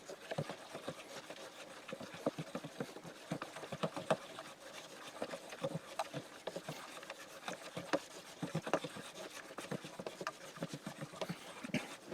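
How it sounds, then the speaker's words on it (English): Plum pulp being stirred and pushed through a colander over a jug, a close, quiet run of wet rubbing and scraping strokes repeating in an uneven rhythm. "if I keep stirring this, the pulp will continue to flow down through those holes for a while"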